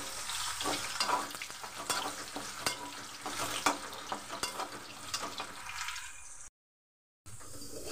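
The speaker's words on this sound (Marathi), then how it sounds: "ही बटाटे ह्याची पण फ्राय करून घेते." Potato pieces crackle and sizzle in hot oil in a pan, a close, busy frying hiss with scattered pops and stirring clatter that cuts out briefly near the end.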